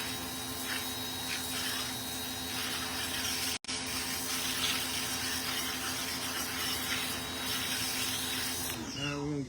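A hose sprays water steadily over muddy inner cabinet parts of a Vendo 81 vending machine being cleaned, a continuous close hiss running for the whole stretch with one brief cutout partway through.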